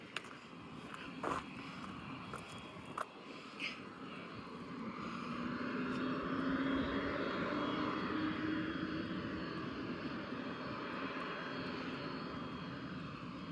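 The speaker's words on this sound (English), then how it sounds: "one of them has turned on its engine, so it's probably getting ready to go out" Small parked propeller plane at an airfield runs its engine, a steady drone that grows louder and rises slightly in pitch after a few seconds, with a few faint clicks and knocks nearby early on and no talk.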